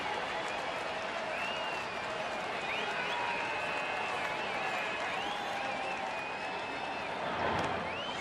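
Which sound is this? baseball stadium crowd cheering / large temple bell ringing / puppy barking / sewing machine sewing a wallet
baseball stadium crowd cheering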